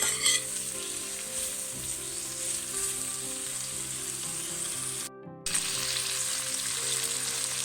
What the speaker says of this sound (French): Je remue. Il faut bien imprégner les légumes d'huile d'olive.